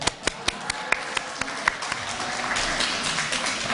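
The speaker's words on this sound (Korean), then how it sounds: "박수 한번." Scattered claps from a lecture audience, starting as a few sharp isolated hits and then thickening into a steady wash of applause, moderately loud and close.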